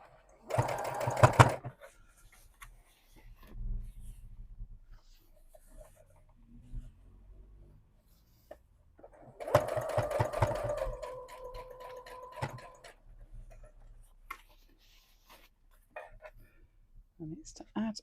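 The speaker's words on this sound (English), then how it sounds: "So what I'm doing is I'm putting a seam down the middle" Sewing machine stitching a seam through daisy lace for a jeans hem, two loud whirring bursts of rapid stitching separated by quieter handling sounds and a soft voice.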